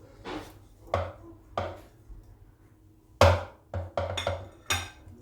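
A knife chops halved tomatoes on a cutting board, about eight sharp, close knocks arriving in an irregular rhythm with short pauses between them.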